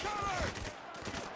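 Gunfire from the video game Spec Ops: The Line strikes an enemy: a close, loud cluster of rapid shots with a brief whistling tone at the start, continuing as rattling bursts through the clip.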